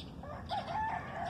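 A pinto rooster on a small farm crows once, a clear drawn-out call at moderate distance over a low background hum.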